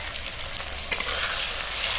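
Ginger-garlic paste frying with tomatoes in a pan gives a dense, loud, continuous sizzle, with one brief clink of a utensil partway through.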